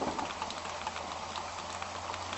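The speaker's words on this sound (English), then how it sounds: "I think this turned into a real rain" Steady rain falls on a rainy day, a dense even hiss with no pauses and no voices.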